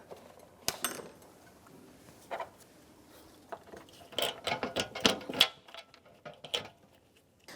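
A ratchet clicks in short, irregular bursts while a bolt is started on the radiator of a 1992-1996 Ford F-150, with metallic taps and clacks between runs of close, crisp ratcheting.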